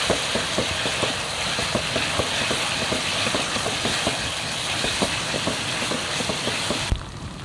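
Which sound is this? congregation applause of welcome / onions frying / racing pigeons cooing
onions frying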